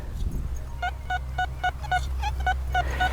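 A metal detector sends out a quick series of short, harmonically rich beeping tones, squawky and can-like and uneven, over a low engine-like hum, while detecting in the UK.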